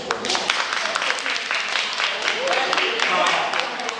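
Dense audience applause and cheering fills the space at a comedy show, steady and loud throughout, with scattered shouts and voices mixed into the crowd noise.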